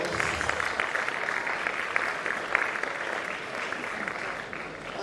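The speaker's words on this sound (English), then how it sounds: "give your parents a loud round of applause" A loud, sustained round of applause from a large crowd at a swearing-in and oath-taking ceremony, dense and steady throughout before easing slightly at the end.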